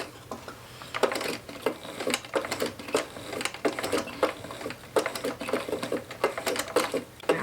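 A vintage sewing machine runs a chain stitch, its needle and mechanism clattering in a fast, steady rhythm of sharp ticks that continues throughout at moderate loudness.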